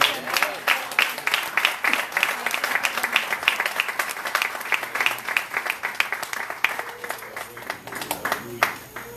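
A congregation claps during a church service, sustained, evenly rhythmic applause lasting several seconds, with voices calling out beneath the clapping.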